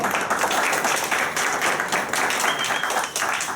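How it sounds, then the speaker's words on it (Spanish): Audience applause for two moderators being welcomed at a seminar on human relations, a steady dense wash of clapping from a crowd lasting the whole moment with no voice over it. "a Irving y a Alfonso, para los cuales pido un fuerte aplauso, por favor."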